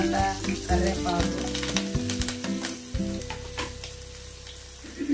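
Curry leaves and green chillies sizzle in hot oil with mustard seeds and cumin for an egg curry, a loud steady crackle with sharp pops and a low background hum throughout, no talking.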